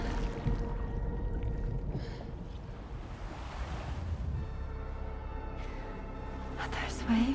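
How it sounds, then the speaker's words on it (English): Ocean waves wash onto a beach in the video game Death Stranding 2: On The Beach, a steady broadband surf that swells and recedes under a constant background, with faint game sounds and voices over it. "Are those waves? Yes, they are."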